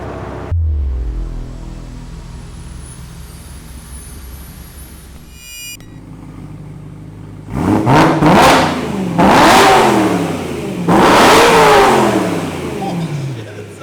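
BMW E9x M3 V8, near-stock, idling with a low burble before blipping the throttle in three strong, rising revs that howl and drop back, close and loud, with some speech mixed in.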